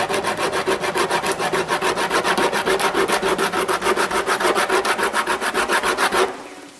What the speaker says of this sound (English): But anyways, to the sandpaper